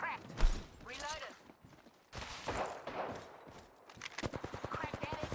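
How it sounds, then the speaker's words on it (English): Gunfire in Apex Legends sounds as a burst of rapid automatic shots, then a quiet stretch and another fast rattling volley, mixed with game mechanism noises while a voice talks. "Big shooting at me."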